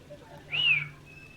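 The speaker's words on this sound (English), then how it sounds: "Who's whistling?" A single short whistled note, rising then sliding down, sounds during a War Thunder VR flight simulation session, moderately clear over a quiet background.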